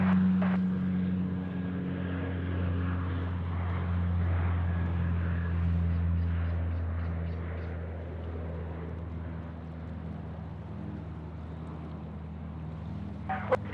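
An Airlink aircraft taking off at Sydney Airport, heard as a steady propeller-engine drone with a low tonal hum that builds slightly and then fades as it moves off, mid-distance, with no talk over it.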